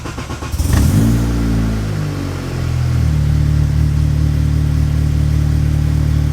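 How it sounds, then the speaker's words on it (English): A car engine tuned to run on E85 fuel fires up with a short burst and then settles into a steady, even idle close by, a loud smooth drone with no voices. "Listen to how smooth this car is now."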